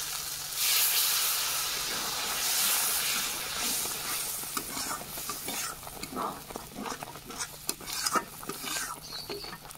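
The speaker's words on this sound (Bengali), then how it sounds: "মশলা কষানো হয়ে গেছে, মশলা থেকে তেল ছাড়তে শুরু করেছে, এবার জল দিয়ে দেবো।" Water hits sizzling fried spice paste in a pan while cooking a paneer curry, letting out a loud hiss of steam that settles into a softer sizzle with stirring scrapes.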